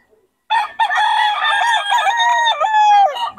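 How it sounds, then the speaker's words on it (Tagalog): A rooster at a Bocaue market crows loudly and close by in one long, wavering call lasting nearly three seconds, following a brief quiet start. "Solid quality rin mga manok nito ni Boss Russell."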